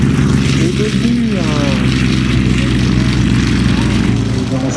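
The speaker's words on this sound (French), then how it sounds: "devant nous par exemple on a un petit monoplan biplace d'entraînement et de perfectionnement" Small two-seat monoplane trainer aircraft flying overhead at an airshow in La Ferté-Alais, its propeller engine droning steadily and loud throughout, with voices talking over it.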